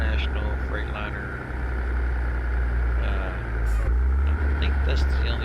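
Cab interior of a Kenworth W900 in American Truck Simulator, hauling a heavy Case Magnum 380 load: a loud, constant low engine drone with a mid-range hum, while someone talks over it.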